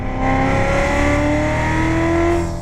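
A Chevrolet Corvette C7 Z06 accelerates hard on a race track, its engine note climbing steadily in pitch as a loud, close, continuous roar from start to finish.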